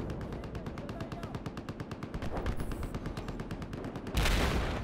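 Rapid automatic gunfire from Battlefield 4 rattles in quick, evenly spaced bursts, close and loud, with a heavier blast near the end.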